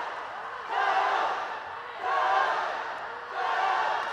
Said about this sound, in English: An uproar just came about in this arena. Teammates, families cheering on Maho Imai.